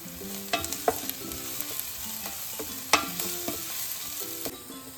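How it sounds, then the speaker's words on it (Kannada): Onion, green chilli and grated ginger fry in a pan with a steady sizzle, while a utensil stirs and scrapes in scattered clinks and taps. No one speaks. "ಈಗ ಫ್ರೈ ಆಗ್ತಿದೆ."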